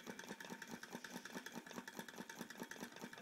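A homemade Stirling engine built from tin cans and heated by candles runs at about 140 to 150 RPM, giving a quick, even mechanical ticking and chugging beat that is faint and close, with no talk.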